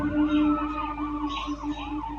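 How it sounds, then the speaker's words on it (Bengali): A police car siren in the video game Real Gangster Crime, wailing up and down in a fast repeating cycle, loud and steady, with no talk over it. "এখানে অনেক পুলিশ চলে আসছে। এখানে একটা পুলিশের গাড়ি"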